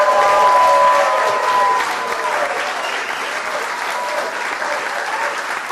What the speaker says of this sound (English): Susie deserves a great round of applause.